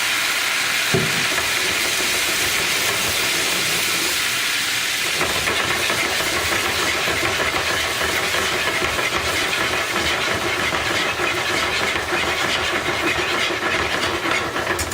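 Sparkling white wine hitting a hot pan to deglaze it while cooking herb-crusted mahi mahi, a loud, sustained sizzle and bubbling hiss that stays intense and close from start to finish.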